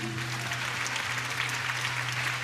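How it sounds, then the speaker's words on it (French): A church congregation claps together in steady, dense applause, loud and close throughout, with a low sustained tone from a held organ or keyboard note underneath. "un gros applaudissement"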